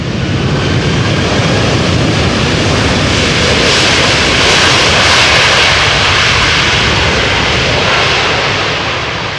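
A roaring aircraft engine fills the air, loud and close, swelling and holding steady as a plane comes in to land at Amsterdam Schiphol Airport.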